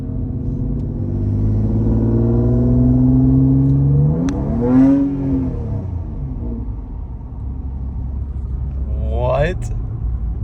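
An Audi engine climbs steadily in revs, surges into a sharp flare as the transmission slips gears, then drops back to a lower drone before one more brief flare near the end.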